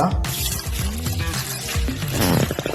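Water is poured onto two kilograms of rice set to soak, making a close, steady splashing pour for a few seconds.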